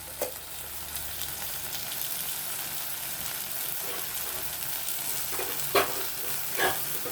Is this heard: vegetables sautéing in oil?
yes